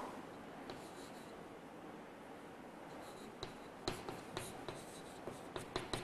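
Pen or marker writing on a board during a physics lecture, faint scratchy strokes and light taps that grow more frequent toward the end over steady background hiss.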